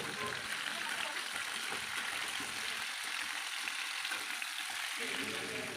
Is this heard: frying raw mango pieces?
yes